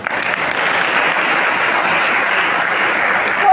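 An audience at a gender-awareness talk gives steady, dense applause that holds at an even level throughout, with no voices over it.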